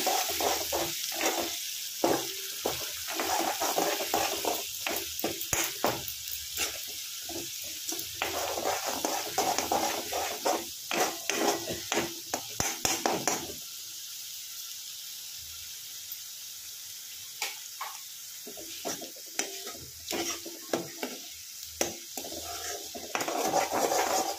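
Pabda fish frying with spice paste in a pan, a dense steady sizzle with scattered clinks and stirring scrapes of a utensil against the pan throughout.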